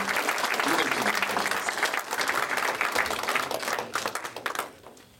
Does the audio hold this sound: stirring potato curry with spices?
no